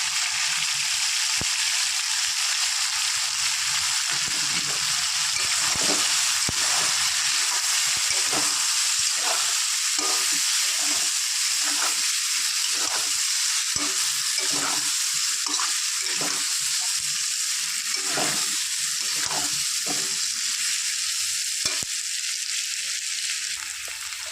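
Potato and taro frying with cumin powder, chili powder, turmeric and garam masala, a continuous bright sizzle with repeated scraping strokes of a spatula stirring, close and steady throughout.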